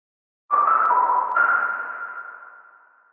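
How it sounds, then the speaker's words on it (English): A bright, sustained UK garage synth lead tone layered with white noise, stepping between a couple of pitches before slowly fading out. "For the lead, we have one synth plus white noise."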